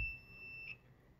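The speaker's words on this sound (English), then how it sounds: "a setting that it just beeps when you have continuity" A multimeter's continuity tester lets out a steady high electronic beep that holds for most of a second and then cuts off. It sounds during a Haltech Elite install on a Genesis Coupe 2.0, with low background hum and no talking.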